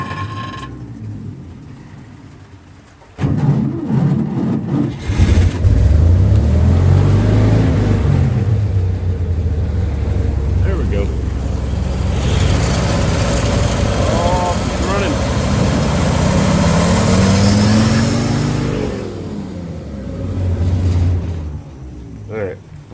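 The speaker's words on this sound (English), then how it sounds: "we'll try and get her idling just for a second" The engine of a long-abandoned 1962 Dodge M37 truck cranks, catches and runs roughly near the microphone, rumbling and surging between idle and revs for most of the stretch before cutting out, with people talking over it.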